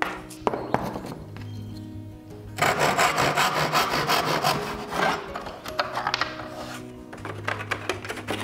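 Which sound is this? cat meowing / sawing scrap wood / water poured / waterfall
sawing scrap wood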